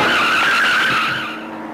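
A lorry braking hard and skidding, giving one sustained, loud tyre squeal close by that holds steady and then fades slightly toward the end.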